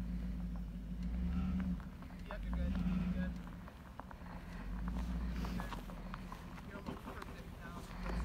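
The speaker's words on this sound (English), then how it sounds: "I think backing up the trailers are always the hardest part of any rescue" A vehicle backs a trailer carrying rescued lions, a low engine drone rising and falling in slow swells as it maneuvers, with wind and faint background voices over the rumble.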